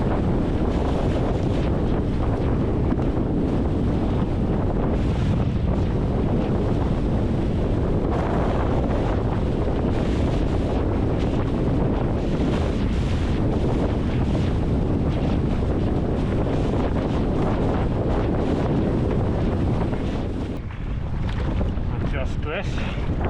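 Steady wind gusts buffet the microphone aboard a small sailboat out on open water, with waves and hull noise underneath, loud and continuous throughout with a brief dip near the end.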